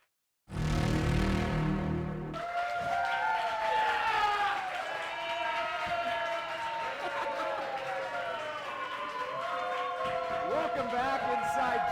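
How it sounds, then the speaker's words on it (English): A loud, enthused crowd cheers and shouts inside Jay's Bar in Madison, a dense roar of voices and whoops rising suddenly after a brief burst of music and staying strong throughout. "clearly, Jada, we have a loud and enthused crowd to have you in the building tonight"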